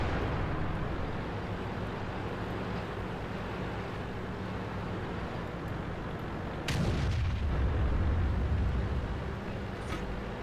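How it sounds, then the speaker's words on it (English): A tank cannon fires in the online game World of Tanks, one loud booming shot cutting through a steady engine rumble and followed by a long rolling echo. "I'd love to shoot that Waffenträger E100 in the turret."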